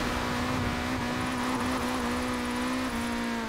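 Car drifting in Forza Horizon 4, driven with a Logitech G920 wheel: a steady, sustained engine drone at high revs with a faint whine on top, loud and unbroken for a few seconds, no voices.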